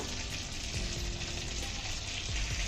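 Cumin seeds frying in hot oil while preparing samosa stuffing give off a loud, continuous close-up sizzle with a dense crackle that holds steady from start to finish, with no voices.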